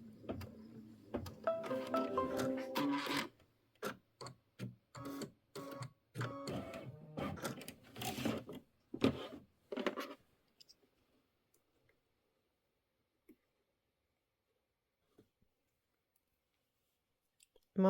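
An embroidery machine sews an outline stitch on a quilt block, giving rapid, rhythmic mechanical clicking and whirring in close bursts for about ten seconds before stopping into near silence.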